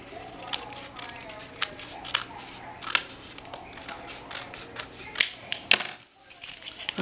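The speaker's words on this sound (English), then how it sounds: "I'm going to cut that off with some scissors" Several crisp, short scissor snips through sticky-note paper close by, irregularly spaced, over a faint background hum with no talking.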